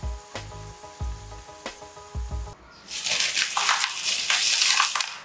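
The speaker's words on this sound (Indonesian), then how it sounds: "Goreng sisanya hingga habis." Steady rattling thumps give way to loud, continuous crackling and sizzling as jackfruit chips fry in hot oil, growing busier toward the end.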